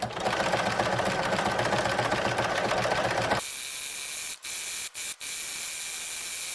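Domestic sewing machine stitching a decorative leaf-pattern stitch on a fabric napkin, a steady dense whirring run that cuts off abruptly after about three seconds, followed by quiet room tone with a few brief dropouts.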